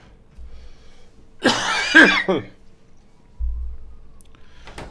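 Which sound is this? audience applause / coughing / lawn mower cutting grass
coughing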